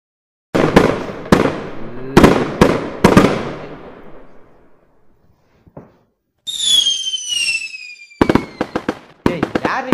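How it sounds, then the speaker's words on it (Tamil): Sharp Diwali firecracker bangs go off one after another, each ringing out briefly, then a shrill whistling rocket and another quick string of loud pops. "யார் நீ பட்டாசு வெடிச்சிட்டு இருக்கிறது?"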